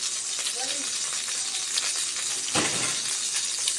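Garlic fries in ghee for a sauce, a steady soft sizzle and hiss from the pan with a brief louder crackle partway through.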